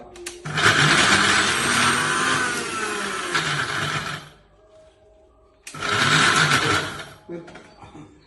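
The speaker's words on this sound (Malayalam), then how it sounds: "കുറച്ച് വെള്ളം ഒഴിച്ചുകൊണ്ട് നമ്മളിത് മിക്സിയിലിട്ടാണ്ട് അരക്കുക" A kitchen mixer grinder blends cooked rice with a little water into a fine paste, running in two loud bursts of steady motor whir separated by a short quiet pause.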